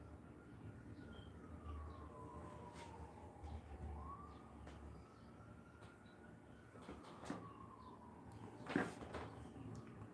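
Ambulance siren far off, its wailing tone rising and falling faintly over low street rumble, with a few brief knocks and a louder thump near the end.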